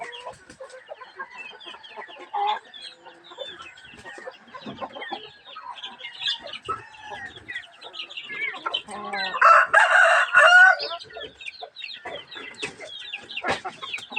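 Backyard pet chickens cluck busily at close range as they are fed, with overlapping calls throughout and a loud rooster crow rising in the middle before the clucking resumes.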